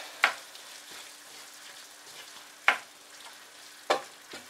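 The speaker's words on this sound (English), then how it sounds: "Give it a good stir." Meat filling with spring onions stirred in a pan off the heat, three distinct scraping strokes of a utensil spaced a second or two apart over a faint background hum.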